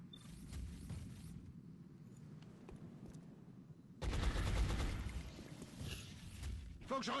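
Gunfire in the XCOM: Enemy Within video game, a burst of loud sharp shots and rattling fire starting partway through over a dense game backdrop, with someone speaking French in the background.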